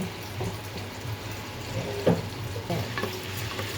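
Onions fry in hot oil for a beef curry, a continuous moderate sizzle broken by a few spoon scrapes and a louder clatter midway, with no talking.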